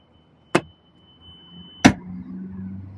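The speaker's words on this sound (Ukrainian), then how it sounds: "Також у нас тут є штатний відкидний фаркоп" Factory fold-down tow hitch on a Renault Espace minivan, swung by hand: two sharp metallic clunks about a second apart, close and loud, with a faint mechanical hum after the second one.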